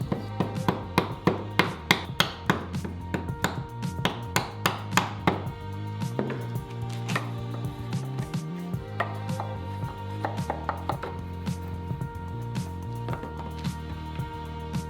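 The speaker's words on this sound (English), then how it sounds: "just enough so that I could use a chisel on the next step and remove it right up to that line" Chisel paring wood up to a scored line, a run of sharp, evenly spaced taps and cuts close by, growing denser and busier midway, over a constant background hum.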